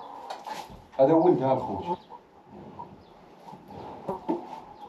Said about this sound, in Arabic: كاين الحمام بزاف